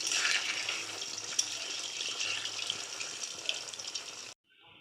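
Pantua sweets frying in oil produce a steady, close, bubbling hiss that stays fairly even before cutting off abruptly near the end.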